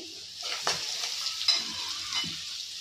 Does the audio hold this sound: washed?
yes